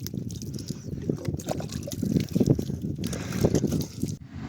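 Water pours and splashes steadily from a pot as hands and face are washed outdoors beside a well near farm fields, a continuous close sloshing trickle with faint voices in the background.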